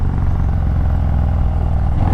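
A 2020 Harley-Davidson Lowrider S with an S&S setup rumbles steadily while riding, a loud, close, low engine drone with faint clatter and wind, no voices.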